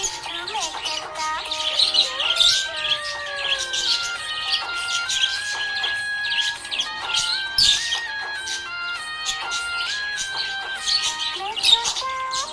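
A happy budgie parrot chirps and tweets in rapid, busy trills throughout, with whistled notes over a sung song in Hindi.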